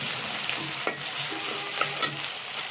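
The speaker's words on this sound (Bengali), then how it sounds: "এখন এগুলো পেঁয়াজের সঙ্গে ভেজে নেব।" Cardamom, cinnamon and cloves fry with onions in a pan for a duck meat curry, giving a dense, close sizzle punctuated by a couple of quick stirring scrapes, with no voices.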